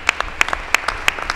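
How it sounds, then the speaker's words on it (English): A small audience applauds at a mayor's community night event, a handful of sharp, close claps in a loose, uneven rhythm over a short stretch. "Could you give him a warm round of applause?"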